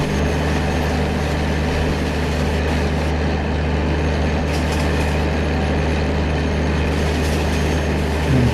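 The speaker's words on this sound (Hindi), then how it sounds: "ट्रेन को फुल थ्रॉटल पे यहाँ से डिपार्ट किया जाएगा।" Vande Bharat and push-pull Rajdhani trains in Train Simulator pull away at full throttle, a loud continuous low rumble of engines and rolling wheels with steady mechanical drone.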